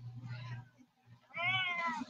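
A cat gives two clear meows, the second longer and louder and rising into a drawn-out call, close by and separated by a brief pause, with a low hum underneath.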